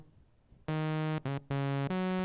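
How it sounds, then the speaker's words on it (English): A single DiffMoog synthesizer oscillator plays a bright, buzzy harmonic tone alone, starting after a short silence and cutting out briefly twice before holding steady, shifting slightly in pitch near the end. "I start with just an oscillator."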